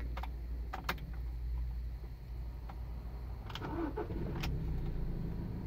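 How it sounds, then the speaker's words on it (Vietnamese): A Mazda BT50 pickup's engine starts in a used-car inspection, with a few clicks and key jingles before the starter catches and the motor settles into a smooth, fairly quiet idle. "Em sẽ tiến hành nổ máy."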